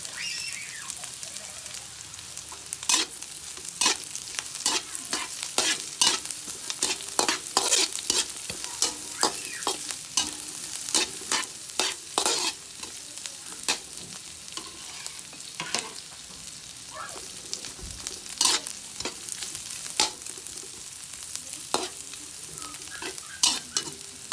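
Dried smoked fish (tinapa) is stirred into onion, garlic and ginger sizzling in a pan, with a steady fry hiss broken by repeated sharp scraping strokes of a spoon.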